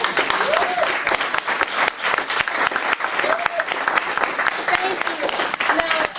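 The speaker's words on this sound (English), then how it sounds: "Let's give him another round of applause." Sustained applause from an audience, dense clapping that fills the whole stretch at a steady loud level with a few scattered whistles or calls.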